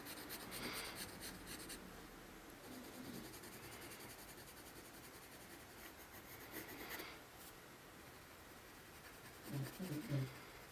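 Pencil shading on paper while filling in a mushroom drawing gives a faint, steady scratchy rub up close, with a few slightly stronger strokes and a soft knock near the end, and no talking.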